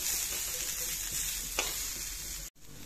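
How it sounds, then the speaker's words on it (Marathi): Thinly sliced onions fry in a pan with a steady, close crackling sizzle. A single stir scrape comes midway, and the sound cuts out abruptly near the end. "आता बघा, आपला हा कांदाही परतत आलेला आहे।"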